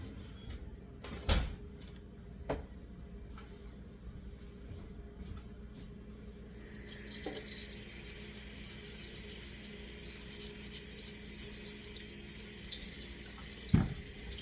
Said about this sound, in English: Now I'm scrubbing the potatoes right now.